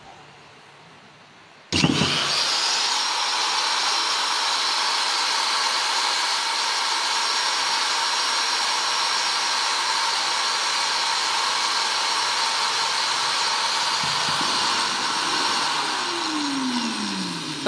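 Modern M-2300 angle grinder switched on and spinning freely with no load: a brief start after silence, then a steady high-pitched whine held loudly and close, easing slightly near the end.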